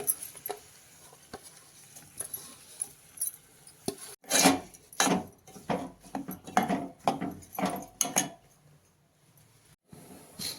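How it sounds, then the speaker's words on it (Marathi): Washed barnyard millet scraped and stirred in a pan, a series of gritty rubbing strokes with light clinks, close by and moderately loud, no talking. "धुतलेली भगर आपण यामध्ये टाकून घ्यायची आणि एक दोन मिनटं फक्त हलवून घ्यायचं"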